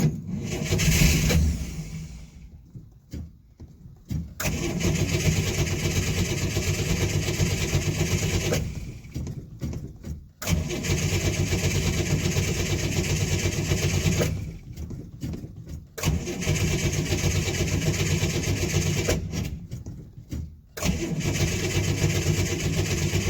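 A Chevrolet Corvair engine, freshly primed with gasoline poured into dry carburetors, runs in a loud, steady idle that cuts out and restarts several times, with short cranking gaps between the bursts of running.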